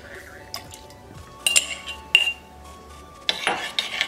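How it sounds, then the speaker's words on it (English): Cornstarch slurry stirred in a cooking pot, heard as a few separate metallic clinks and scrapes of a utensil against the pot, with quiet gaps between them. "Give that a quick stir"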